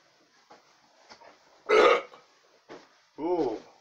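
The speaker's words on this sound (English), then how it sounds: "Burps, oh dude, I've been burping the whole ride home." After drinking Mountain Dew Game Fuel Charged Berry Blast, a person lets out two short, close burps amid soft breathing and faint mouth noises.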